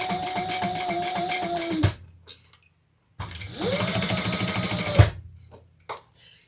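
A sewing machine stitches seams on a leather messenger bag at a 4 stitch length, running in two steady bursts of close, loud mechanical whirring separated by a short pause, with faint clicks after each run.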